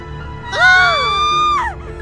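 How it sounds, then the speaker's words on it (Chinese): A single drawn-out, inhuman scream rings out loud and close in a horror animation, holding steady for about a second before breaking off over a low rumbling background. "只传来了一声不似人类的惨叫声和沉重的脚步声。"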